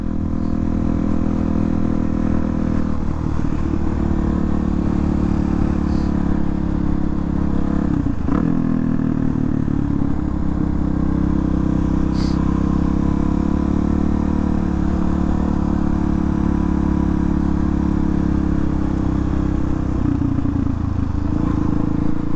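A loud race car engine drones steadily and close for the whole stretch, with a dense low rumble, brief shifts in pitch and faint clattering, and no talking.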